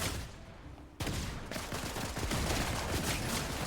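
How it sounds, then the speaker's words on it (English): Gunfire from several players in a video game, dense rapid overlapping shots in a continuous fusillade that bursts in after a quieter opening second and keeps going to the end. "I have like 8 people shooting at me right now."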